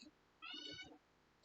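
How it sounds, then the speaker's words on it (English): A cat meows once in the background, a short, faint, tonal call rising out of a quiet room. "As you can hear the cat in the background, I think she's agreeing with me."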